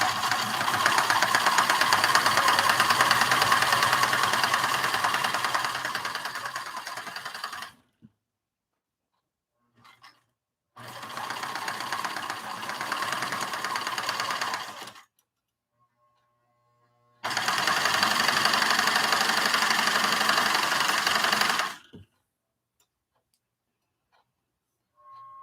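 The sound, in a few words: sewing machine with denim needle sewing pattern weights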